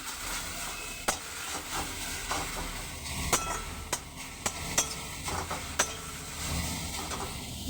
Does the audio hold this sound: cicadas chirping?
no